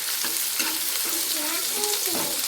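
Onions frying in oil in a pan for an egg curry, a loud continuous hiss with spoon scrapes and stirring clinks repeating every half second or so, close up and without talk.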